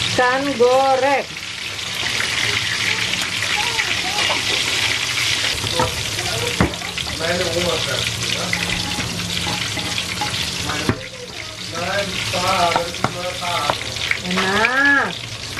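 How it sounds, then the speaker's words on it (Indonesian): Fish frying in a pan sizzles and crackles steadily throughout, with stirring and scraping against the pan, while people talk over it on and off. "Ikan goreng."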